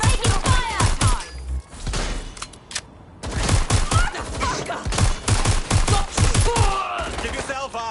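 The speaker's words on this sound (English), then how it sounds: "Taking fire! I'm taking fire!" Rapid bursts of gunfire in the video game Watch Dogs: Legion, loud close shots in quick runs broken by a short pause, with shouting voices mixed in.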